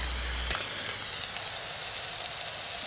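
Onions softening in hot oil in a camp pot give a steady, close hiss of frying with a few faint clinks, heard alone with no talking.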